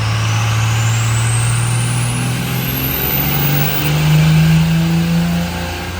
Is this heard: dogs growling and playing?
no